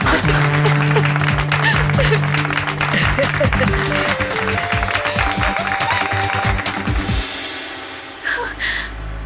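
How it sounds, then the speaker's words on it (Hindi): Loud applause from a TV quiz show studio audience, sustained clapping over steady music tones, tapering off toward the end. "जोरदार तालियां।"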